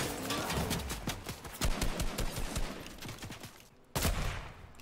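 Shotgun gunfire in the video game Fortnite, a rapid string of sharp, loud blasts with a brief pause and one more heavy shot near the end.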